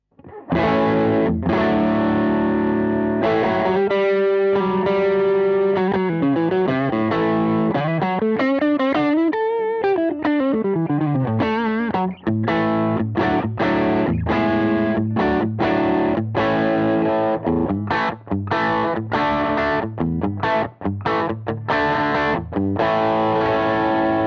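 Electric guitar through a KLON Silver Centaur overdrive pedal with original circuitry, giving a driven, gritty tone; sustained chords and a bending lead line give way to choppy rhythmic strumming, loud and continuous with no talking.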